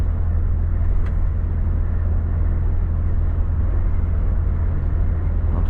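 Loud, steady low engine and tyre rumble from a Volvo FH 540 truck rolling along a road in Chita region at about 90 km/h, continuous throughout with no talk.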